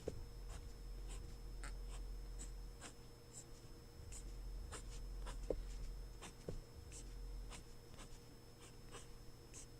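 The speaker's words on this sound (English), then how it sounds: "I'm going to draw a couple hexagons here" Pen scratching on paper while hexagons are sketched, a steady run of soft strokes with short taps and pauses, close and quiet over a low background hum.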